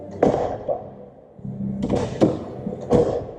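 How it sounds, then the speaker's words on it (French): The door of a well-preserved Mercedes 450 SE opened and closed, giving a latch click, then solid thuds and clunks close by, loud and distinct with no talking. "on ouvre la porte et on la ferme, regardez."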